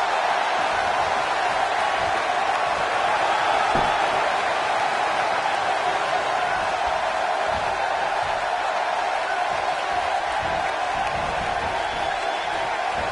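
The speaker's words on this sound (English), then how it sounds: "I don't remember the last time I heard a more passionate crowd than the one we have here tonight." A large arena crowd at a live wrestling pay-per-view keeps up a steady, loud roar for the whole stretch, dense and continuous, with no speech standing out above it.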